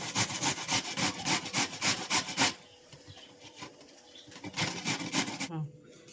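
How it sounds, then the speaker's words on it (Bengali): Raw papaya rubbed against a kitchen grater, a run of quick rhythmic scraping strokes, then a quieter pause and another short burst of grating, close up. "আজ পেঁপে ঘষে পেঁপে দিয়ে একটা সবজি করব। এরকমভাবে ঘষে নিতে হবে"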